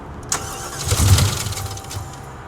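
An old truck engine cranks and catches, then runs with a rough low rumble for a couple of seconds, close by and fairly loud, with no talk over it.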